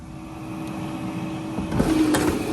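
An air fryer set to 350 degrees hums steadily just after being switched on, with a low continuous whir and a slight swell in the fan noise toward the end, nobody speaking.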